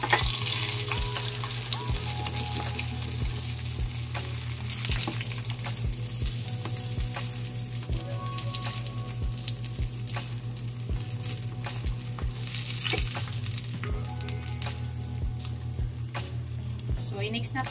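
Crispy fish frying in hot oil, a steady dense sizzle with crackling pops running continuously at close range, with a low background hum beneath it and no talking.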